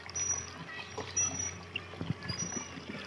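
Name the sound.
battery-powered motor pumping water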